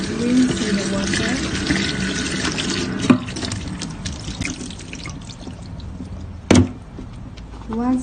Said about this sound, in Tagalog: Rinse in the water.